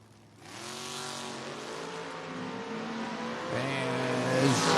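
A Camaro launches at a footbrake drag race event, its engine rising in harmonic revving sweeps with a loud, sustained roar that climbs again near the end, building in intensity as the car pulls away.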